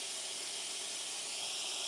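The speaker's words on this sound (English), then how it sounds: "Only thing this one has is a steam. The steam is pretty powerful." Steady, powerful hiss from the steam wand of an El Rocío Manus S espresso machine, loud and unbroken for a couple of seconds with nothing else heard.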